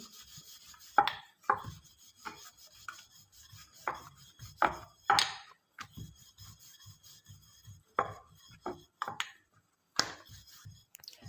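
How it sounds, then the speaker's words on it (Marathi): Wheat dough rolled thin with a rolling pin for kanole, giving intermittent close scraping and knocking strokes with short quiet gaps between passes. "आता आपल्याला पोळीसारखे पातळ लाटून घ्यायचे आहेत कानोले"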